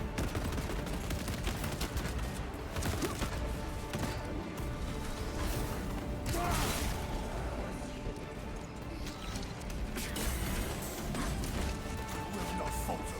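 Traitor Guard lasguns and sniper rifles in Space Marine 2, heard as a constant dense barrage of shots and impacts, busy and loud throughout with no clear pauses.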